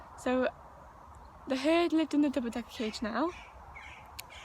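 Crows caw outside, a short burst of harsh calls near the start and more mixed in as a person talks indoors over them.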